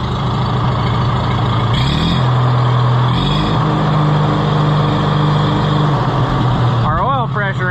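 A nearby Oliver 66 tractor engine runs loudly with a steady, low chug. The pitch shifts slightly early on before the engine settles into an even idle, and a voice speaks over it at the end.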